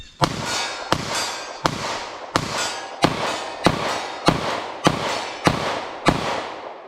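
Nine loud 9mm pistol shots fired with Black Hills XTP ammunition, sharp cracks spaced about every 0.7 seconds, each with a ringing outdoor decay, no talking.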